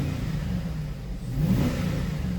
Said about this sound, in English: Let's give it a few revs now that's kind of warmed up a little